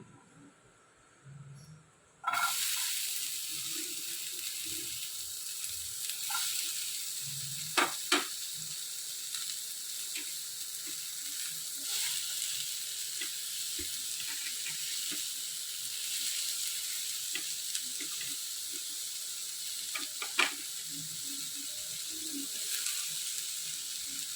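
After a quiet start, ivy gourd hits the pan and a constant hiss of frying takes over, with occasional clacks of a spatula.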